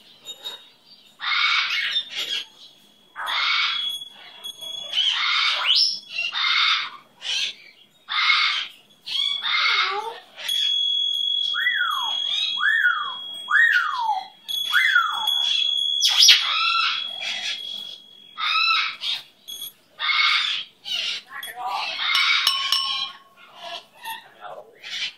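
A pet bird calls repeatedly, with bright chirps and squawks in short bursts and a few whistled rising-falling notes, close and fairly loud; a person also talks nearby at times.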